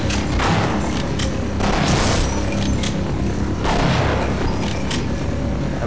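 Shotgun blasts in the Half-Life video game, several loud booming shots at irregular intervals over continuous dense game noise and rumble, with no talking.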